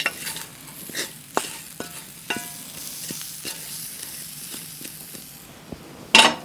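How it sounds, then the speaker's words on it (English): Tomatoes and onions sizzle and fry in a pan beside beef steak, with a steady hiss broken by scattered scraping stirs and a louder clatter near the end. "So let's get the tomatoes and onions in there now"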